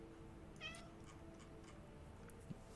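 A cat meows once, briefly and faintly, over a steady low background hum in the Farming Simulator 19 game, with no talking.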